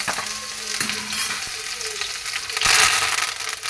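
A crushed paste of garlic, green chili and ginger fries in a pan with fenugreek, crackling and sizzling loudly. Occasional stirring knocks break through, and the sizzle surges toward the end.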